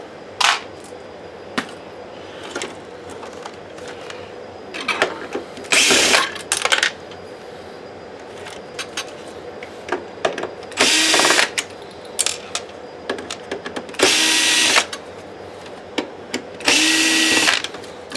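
A power tool buzzes in short, loud bursts, several of them spaced out, as screws come out of a Sanyo PDG-DHT100L DLP video projector during a teardown, with small clicks and handling noises between runs.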